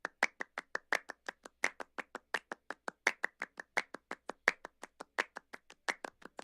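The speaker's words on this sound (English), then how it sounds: "it sounds like there's multiple people clapping" Layered clap samples playing a Latin percussion pattern in Ableton Live, crisp sharp hits in a steady syncopated rhythm with accented louder claps, sounding like several people clapping together, dry and close with no voices.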